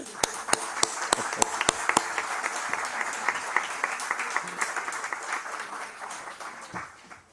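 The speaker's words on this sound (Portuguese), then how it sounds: "Eu acho que o Engenheiro Carlos Moedas merece uma salva de palmas, não é?" A crowd at an anniversary celebration breaks into steady applause, many hands clapping together at an even level, starting with a few sharp claps and fading slightly toward the end.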